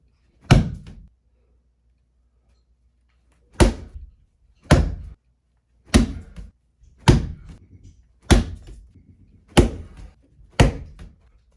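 Plyo ball throws landing, eight separate heavy thuds with gaps of about a second or more between them, each loud and close against otherwise quiet surroundings.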